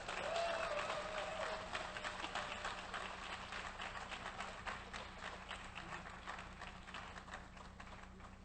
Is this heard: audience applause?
yes